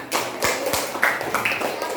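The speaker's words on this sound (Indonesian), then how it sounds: "Ya, bagus, tepuk tangan" Classroom of children clapping hands together, a brisk burst of claps near and fairly loud, with voices chattering underneath.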